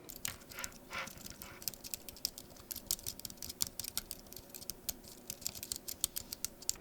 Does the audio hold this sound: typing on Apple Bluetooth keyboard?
yes